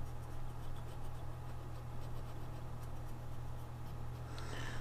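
Soft, steady scratching of a Zebra Zensations colored pencil swatching on paper over a low constant hum, quiet and close, with no talking.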